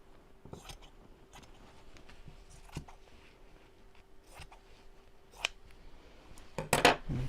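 Scissors snip through fabric to cut a square for a reverse heart applique pouch, several quiet separate snips spaced out, then a louder flurry of close cutting at the end.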